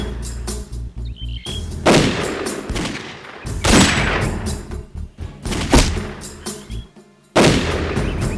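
Loud gunfire crackles through a movie shootout, with bursts of rapid shots and heavy booming blasts spread across several seconds, broken by short pauses.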